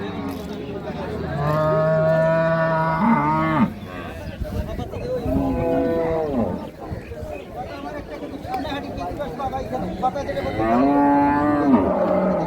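Several loud, drawn-out moos from a Holstein Friesian cow with her calf, close by, with background chatter and voices in between the calls.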